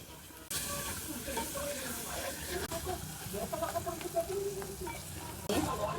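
Water poured into a hot pan for black pea curry sets off a steady, close sizzle and hiss that runs throughout, with a louder burst near the end.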